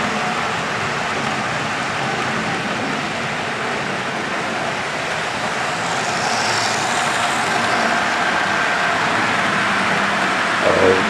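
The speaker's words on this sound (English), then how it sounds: "This is obviously a tilting train." An Amtrak Acela high-speed tilting train rushes past nearby with a steady, loud roar of wheels on rails and wind noise, sustained throughout with no voices.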